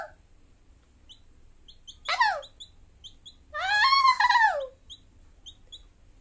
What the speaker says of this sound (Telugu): సో మేము వచ్చేసరికి కోడిపాప అయితే ఏడుస్తుంది